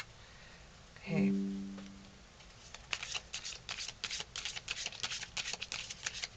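Tarot cards being shuffled by hand, a quick series of crisp riffling flutters and slaps close by, preceded by a brief voice-like tone and background murmur.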